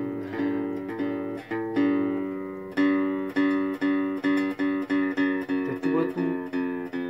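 A guitar string is plucked over and over while being loosened, each note ringing with clear overtones, about a dozen plucks that come faster toward the end as the pitch drops, heard alone.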